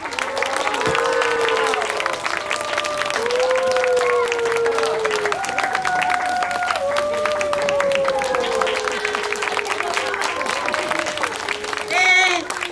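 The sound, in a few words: audience applause at a youth musical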